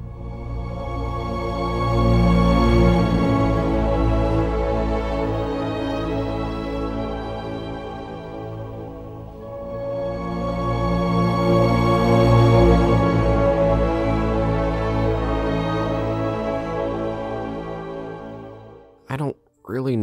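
Orchestral film score music from The Sixth Sense, a few sustained bars with rich low strings and swelling harmony, dipping briefly mid-passage before rising again, then cutting off abruptly near the end.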